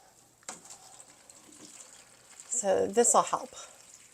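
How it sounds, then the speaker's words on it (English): Water pours into terracotta plant containers of freshly sown beans and lettuce, a short burst of splashing and trickling near the end, after a voice speaks briefly. "I'm coming in and filling these containers with water"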